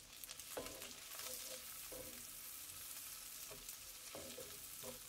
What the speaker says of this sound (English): I'm going to add that right into my skillet and saute.